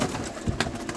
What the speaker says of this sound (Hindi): बहुत ही तेज़ कबूतर हैं भाईजान।